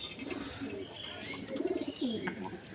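Domestic pigeons kept in a loft coo close by in a few short, throaty bouts, and the cooing grows louder toward the end.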